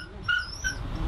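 Dogs whimper and yip with thin, high, whining cries in the street outside an underground canal shelter in Bucharest, brief and fairly close.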